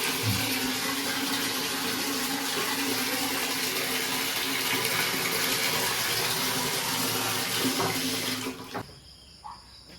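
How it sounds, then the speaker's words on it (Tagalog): Strong, steady rush of water running from a tap in a bathroom at Camp Gilmore, Famy, Laguna, loud and continuous, then abruptly cut off near the end, leaving a quiet room. "Ito yung CR nila. Malakas na tubig."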